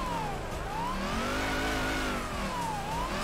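A Mustang engine in Torque Drift climbs and falls in pitch as it revs through a sustained pull, a continuous mid-pitched drone with no voices.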